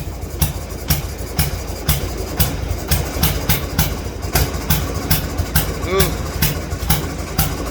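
A faulty Harley-Davidson motorcycle engine puffing black smoke runs at a lumpy idle, with a loud, close, steady rhythmic chuffing of regular pulses; a voice briefly exclaims over it.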